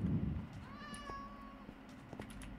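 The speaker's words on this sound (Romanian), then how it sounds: "Am văzut o pisică pe aici?" A cat in the Minecraft video game gives one drawn-out meow, fairly clear against low background rumble and faint game noises.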